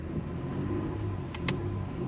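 A Toyota Sienna 3.3 minivan engine drones steadily while driving at about 4,000 RPM, a limping vehicle with no forward gear working properly, heard as a close, constant low hum with two brief clicks near the end.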